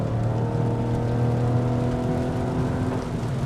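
Engine of a Lexus RX 450h hybrid SUV in sport mode, heard from inside the cabin as a steady, droning hum under acceleration, with continuous road and wind rumble and no voices.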